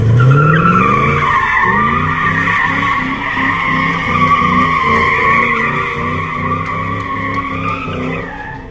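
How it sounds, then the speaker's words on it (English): A 3V Mustang does a burnout, its engine roaring continuously while the tires squeal in a long sustained howl, loud and close throughout. "Just a little burnout and I'm out."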